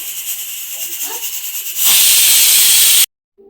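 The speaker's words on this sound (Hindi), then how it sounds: "मैंने आज खिचड़ी रखी है चूल्हे में बनाने के लिए।" Khichdi cooks in a pressure cooker on a home stove, and a loud, close steam hiss builds to a harsh full blast before cutting off abruptly, leaving near silence.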